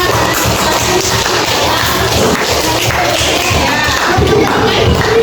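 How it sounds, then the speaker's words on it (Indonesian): Classroom of students clapping for a presenting group: loud, continuous crowd applause with thumping hand claps and some cheering voices mixed in throughout. "Tepuk tangan untuk kelompok 5"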